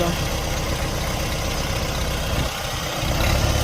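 A Jinma 404 mini tractor engine idles steadily nearby, a continuous low rumble with a slight dip in level near the end.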